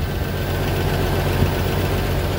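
A swapped 4.0 engine in a 2001 Jeep Cherokee XJ idles steadily just after starting, giving a close, continuous low rumble with an even mechanical thrum.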